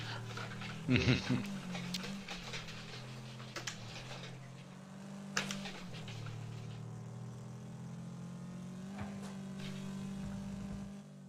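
Mini car driving in the game Wreckfest, a low humming engine tone that shifts in pitch, with sharp clattering impacts near the start and again around the middle, under someone talking.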